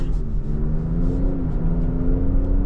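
A Lincoln Aviator Black Label luxury SUV accelerates smoothly, its engine hum steady and loud, with the drone rising gradually in pitch as speed builds and no voices over it.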